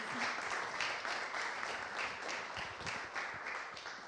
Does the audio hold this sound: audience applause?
yes